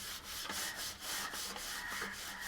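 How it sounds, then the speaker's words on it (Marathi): Steel kitchen utensils scrubbed by hand with cleaning liquid, a close, steady back-and-forth rubbing and scouring in a rhythm of about two strokes per second, with no voices. "मी किती असं सहजपणे घासतोय"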